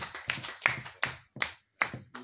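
During a midnight prayer service, a congregation claps in a few sharp, loud bursts with short silent gaps between them, rhythmic and close, with no talking over the claps.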